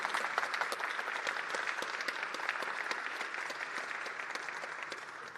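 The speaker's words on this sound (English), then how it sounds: "Could we have one more time a big round of applause for Jiri?" A conference audience gives a big round of applause at the YOLO Vision 2025 event, steady dense clapping from a large crowd that holds for several seconds with no voices over it.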